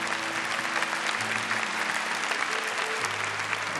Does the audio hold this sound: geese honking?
no